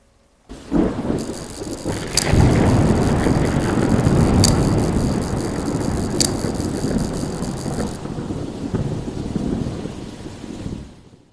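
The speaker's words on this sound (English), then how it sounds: "Rain crashed down all day, and now thunder was rolling in the distance." Heavy rain pours down steadily, with deep thunder rumbling in the distance and a few sharp crackles; no voices.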